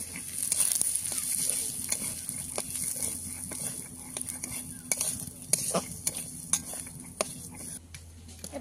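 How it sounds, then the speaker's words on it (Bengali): Moong dal dry-frying in a pan for a Bengali muri ghonto, with a spatula scraping and stirring through steady sizzle and occasional clinks of metal against the pan, close and continuous. "প্রথমে ডালটা ভেজে নেবো। এটা হচ্ছে মুগের ডাল"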